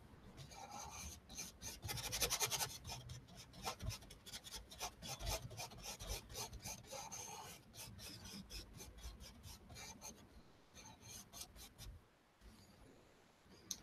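A paintbrush scrubs oil paint onto canvas to block in a leaf, a soft, continuous, close rubbing with rhythmic strokes and no talking.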